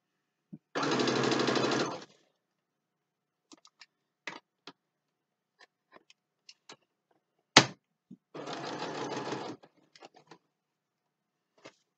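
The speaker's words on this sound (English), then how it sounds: "so you're just basically sewing around the circle" A sewing machine stitches fabric around a circle for a Cricut-made gnome, running in two steady bursts of a second or so each, separated by scattered light clicks and handling taps, close and clear with no talk.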